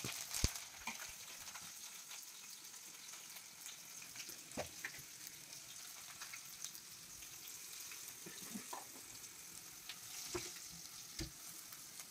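Chicken liver curry frying in a moderate amount of oil in a home kitchen, with a steady close sizzle and occasional louder pops and stirring clicks throughout.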